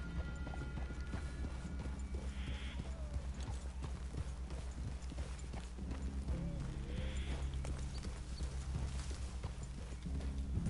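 Horses' hooves clip-clop steadily at a walking pace, with a constant low rumble of outdoor background.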